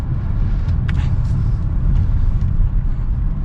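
Steady low road and engine rumble inside a 2022 Lexus ES350 sedan as it drives through turns, a continuous cabin drone with a few faint higher ticks and no distinct events.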